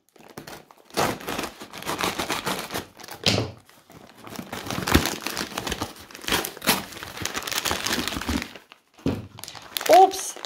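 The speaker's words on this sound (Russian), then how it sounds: "Упс, открыла я немножко неудачно. Я порвала пакетик." A plastic bag of peanuts being opened and torn apart, with dense crinkling and ripping in bursts across the stretch, close and loud, a few brief pauses between handling sounds.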